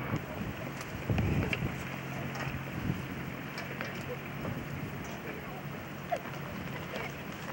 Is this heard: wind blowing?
yes